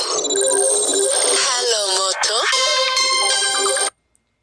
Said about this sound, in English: Hold on, I gotta interrupt the phone call.